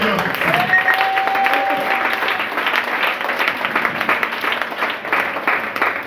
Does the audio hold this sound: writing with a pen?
no